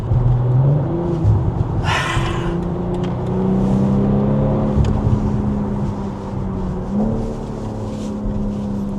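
A BMW M340i xDrive Touring with a performance exhaust accelerates hard in sport mode, its engine note loud and close, rising through the revs with a sharp burst about two seconds in and a steady drone through the rest.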